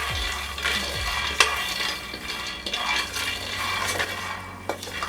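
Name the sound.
nut pieces frying in a hot pan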